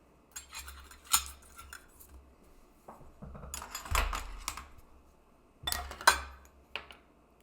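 A small knife cuts and scrapes out the center of a gluten-free lemon meringue cupcake, producing soft, close scraping and clicking sounds in a few short, irregular clusters separated by quiet gaps.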